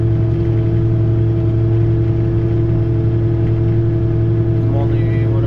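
A tractor engine runs steadily at about 1,650 RPM while planting, a loud, constant mid-pitched drone with a strong low hum that stays unbroken throughout.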